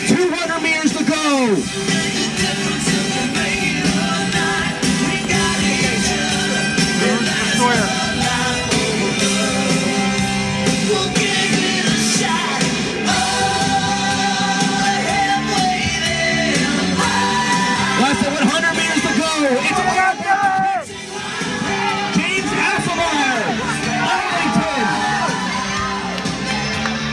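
Loud, sustained crowd cheering at a high school mile race, with shouts and whoops rising and swelling as runners approach, an announcer's voice running over the noise throughout.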